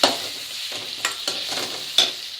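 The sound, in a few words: brinjal masala being stirred in a pan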